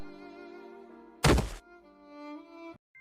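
A person falls hard to the ground after being pushed during a Diwali comedy sketch, landing with one loud, dull thud in the middle, then a continuing musical tone.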